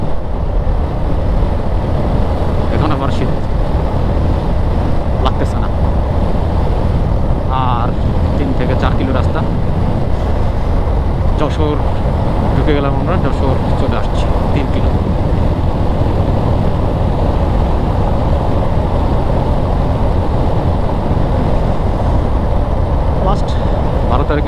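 Constant roaring wind and engine rumble from a motorcycle moving at 70 to 75 km/h on an open highway at night between Narail and Jessore, with a voice talking intermittently underneath.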